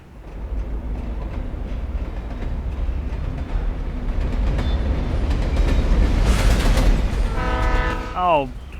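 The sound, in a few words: train passing in video game Alan Wake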